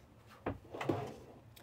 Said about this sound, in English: You'll have all this different storage from these drawers that pull out.